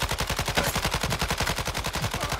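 Steady rapid bursts of automatic gunfire in a shooter video game, a fast even rhythm of loud cracking shots filling the whole stretch with no talk.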